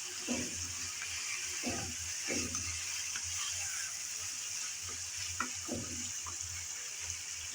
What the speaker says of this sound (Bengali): কিছুক্ষণ সময় নিয়ে নেড়ে চেড়ে আমি ভালোভাবে কষিয়ে নিলাম